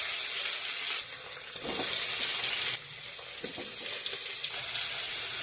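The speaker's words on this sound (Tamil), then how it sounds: "வெங்காயம் தக்காளி நல்லா ஃப்ரை ஆயிடுச்சு." Onion and tomato frying for a mutton curry, a loud continuous hiss of sizzling oil that surges and drops in broad waves, close up with no voices.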